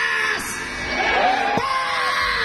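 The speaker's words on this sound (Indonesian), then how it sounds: "mari kita buat sejarah dengan teriakan yang sangat keras untuk PAS!" A concert crowd for the band PAS at an evening show at PRJ Jakarta yells and whoops loudly together, a dense sustained roar of many voices with rising shouts and no music over it.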